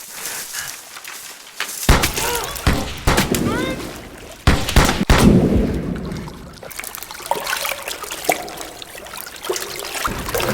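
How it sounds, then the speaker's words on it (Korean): Sharp booming bursts of gunfire from soldiers in a film scene come in scattered volleys, mixed with shouting voices and rumbling background noise. "군인들의 총알 세례에 운 좋게 살아남은 호세"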